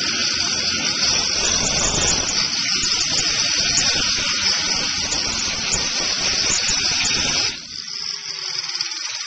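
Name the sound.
grinder grinding metal to bare surface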